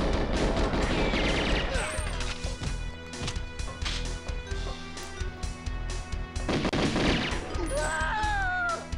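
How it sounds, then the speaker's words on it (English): Bursts of guard gunfire in the video game GoldenEye X on the Frigate level, loud rapid volleys with crashing impacts and ricochet-like whines, pausing briefly before another heavy burst. "that guard actually turns and shoots at you"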